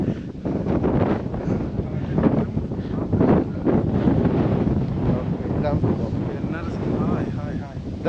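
Cold wind in the Idukki hills buffets the microphone in low, rumbling gusts that continue throughout, with voices talking underneath.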